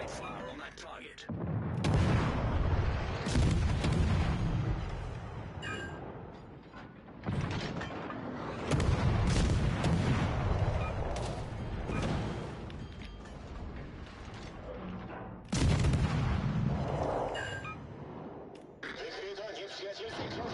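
Naval gunfire from warships in World of Warships: Legends, heavy booming salvos in several loud bursts with mechanical turret clatter between them, over engine and ocean rumble.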